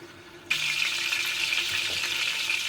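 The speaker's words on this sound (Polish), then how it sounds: "To trochę skwierczy ta woda na dnie." Water sizzles and spits steadily in hot oil at the bottom of a pressure cooker, a sudden loud hiss starting and continuing without pause.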